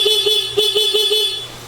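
A Suzuki Smash 115 motorcycle horn beeps in a rapid series of short, evenly spaced honks, loud and close, over a faint engine hum.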